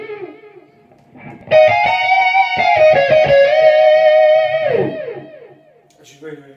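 A sustained electric guitar chord through harmonizer, delay and reverb effects rings out thick with layered harmonies, echoing repeats and a wide reverb wash before fading.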